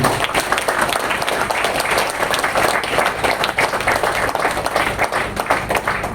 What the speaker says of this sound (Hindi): तो ये वीगन स्लैग के लिए जोरदार तालियां होनी चाहिए।